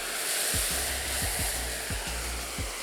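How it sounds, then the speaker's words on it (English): Water sprayed from a fan spray nozzle washes across a grouted flagstone surface, a steady broad hiss with low thumps recurring every half second or so, close and continuous, with no talking. "wash the surface by spraying it with a fan spray nozzle"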